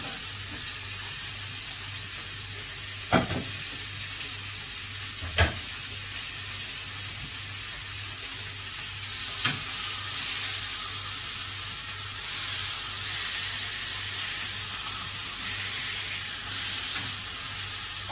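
Steak sizzles on a hot grill, a steady close hiss and crackle that swells louder in the second half, broken by a few sharp clanks of utensils, with no voices.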